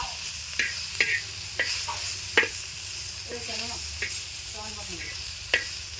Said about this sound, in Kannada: ಮೆಣಸಿನ್ಕಾಯಿ ಹುರ್ಕೊಂಡ್ಮೇಲೆ ಟೊಮೆಟೊ ಹುರ್ಲಿದ್ದೀನಿ